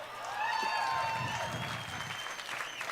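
Crowd applause rolls through the stands at the PPA Rocky Mountain pickleball championships, a continuous wash of clapping that swells and then holds, with a commentator's voice faintly underneath.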